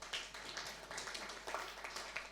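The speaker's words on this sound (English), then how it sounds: "clap for yourself" Scattered, uneven clapping from a small audience at a COP27 gender and climate justice session, faint and thin, with short bursts of hand claps throughout.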